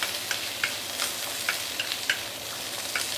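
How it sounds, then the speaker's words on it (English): Thick choy sam stems stir-fried in a hot wok make a continuous close sizzle, broken by sharp scraping clicks of the spatula every half second or so, with no voices. "So we stir fry this for a while before we add in the leaves"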